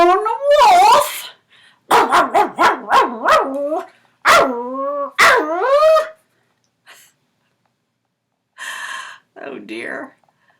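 A dog in a dog cage gives a run of whining yelps and sharp barks in several loud, close bursts with pauses between, then a couple of quieter yips near the end.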